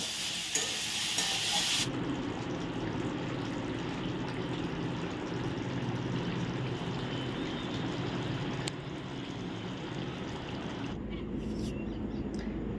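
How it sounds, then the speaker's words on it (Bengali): Potatoes and soybean chunks frying in a pan give a steady, soft sizzle and hiss that runs throughout, fairly quiet with a brief louder burst at the start. "এই যে এখন ভাজা হচ্ছে আলু আর সোয়াবিনটা ভাজা করেছে"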